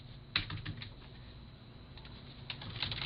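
Keys tapped on a computer keyboard while card billing details are entered into an online shopping cart checkout, a few soft clustered keystrokes with short pauses, close and quiet over a faint room background.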